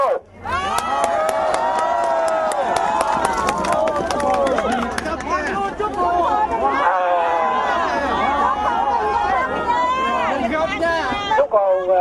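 A large outdoor rally crowd cheers, shouts and claps loudly and continuously for a musician, with dense voices and whistles filling the scene.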